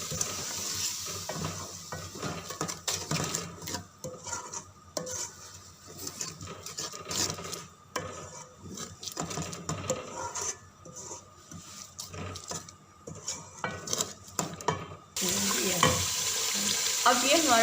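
Masala of salt, red chili and turmeric roasting in a pan, with continuous sizzling and frequent scraping spoon strokes against the metal, louder frying bursts near the end.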